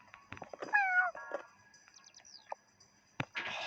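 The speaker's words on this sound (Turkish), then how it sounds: "Miyav miyav." A few soft, high meows from a small cat mixed with faint chirpy squeaks and light rustling, fairly quiet and close.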